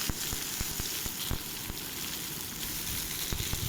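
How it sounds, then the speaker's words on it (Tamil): Brinjal sizzles steadily in a hot oiled pan while a spoon stirs it, sending sharp clicks and scrapes over the constant crackle, close and alone without talk. "கத்திரிக்காவை சேர்த்துட்டு நல்லா ஒரு தடவை கலந்து விட்டுக்கோங்க."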